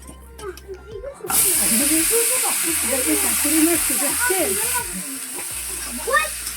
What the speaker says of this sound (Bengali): বয়েল করে রাখা এই যে চানাগুলো দিয়ে দেবো ভাজা করে নিচ্ছি দেখুন